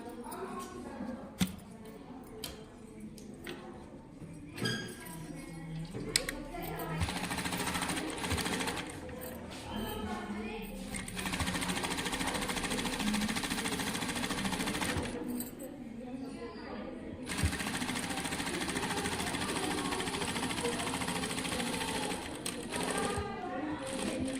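Sewing machine stitching a long strip for a small child's night suit, whirring steadily and fairly faintly for most of the stretch, with a few short stops.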